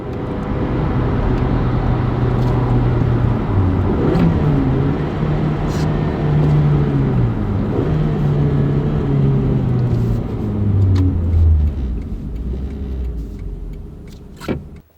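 A 2009 Suzuki SX4 Sport Sedan cruising at highway speed, about 70, heard from inside the cabin as a steady engine drone with road and wind roar, no talking.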